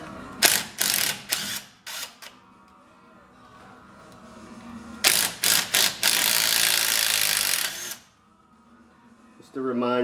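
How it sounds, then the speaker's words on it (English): Electric ratchet gun spinning out differential cover bolts on a GM Silverado, Sierra, Tahoe or Suburban: several short, close whirring bursts, then a longer sustained run before it stops and a voice follows. "I'm going to use an electric ratchet gun just to speed up the process here."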